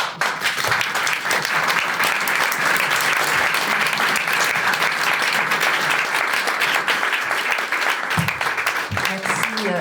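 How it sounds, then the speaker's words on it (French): An audience at a round table on chemical submission and women's rights breaks into sustained, loud applause, dense clapping throughout with brief voices near the end. "on va vous applaudir"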